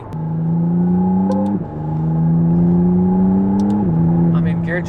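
A McLaren Artura supercar in track mode accelerates hard, its engine note climbing steadily with two quick gear changes breaking the rise, loud and close from inside the cabin.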